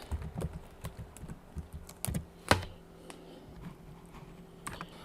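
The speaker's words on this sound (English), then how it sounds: "I'm going to type in gradients" Keys on a computer keyboard are pressed one by one during a Canva social media design session, producing a sparse run of light, close taps with one louder keystroke midway.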